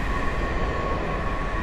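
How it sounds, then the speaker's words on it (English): A Washington DC Metro subway train on the line toward Largo Town Center and New Carrollton pulls into the station with a steady, loud rumble and hum that fills the whole moment, without pauses or speech. "Here's the train."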